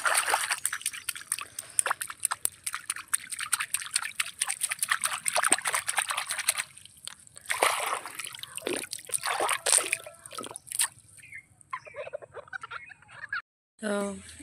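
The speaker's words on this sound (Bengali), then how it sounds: "এখন চলে এসেছি পুকুরে মুখ ধুতে।" Water splashes and trickles at a village pond as someone washes their face on a winter morning, a run of close, irregular splashes and drips, with a brief pause and a short final burst of sloshing.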